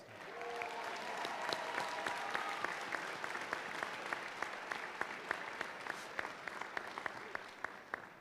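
A high school graduation audience applauds parents and teachers, a steady, even wash of clapping from a large crowd lasting throughout, with a few sharper individual claps standing out and no speech.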